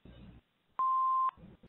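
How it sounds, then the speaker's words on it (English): A single steady answering machine beep sounds for about half a second, clean and electronic, set between short stretches of muffled sound before and after. "Please leave your name and phone number after the beep."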